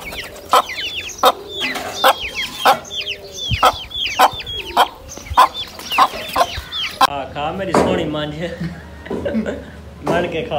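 Chickens and a white rooster cluck in a barnyard with young chicks nearby, a run of loud, repeated rhythmic clucks close by, followed by someone speaking over softer clucking.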